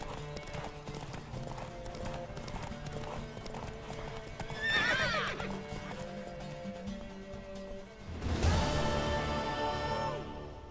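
Horse hooves clip-clop at a run over a background of game music in The Witcher 3: Wild Hunt, with a sharp whinny midway and another loud burst of galloping near the end.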